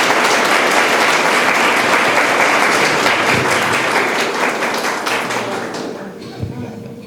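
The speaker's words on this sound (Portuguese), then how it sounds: "eu peço a todos uma salva de palmas para nós recebermos a Duda Salabert" A lecture audience at UFSJ claps steadily to welcome Duda Salabert, a dense, sustained burst of applause that fades out over the final seconds, with a few stray claps near the end.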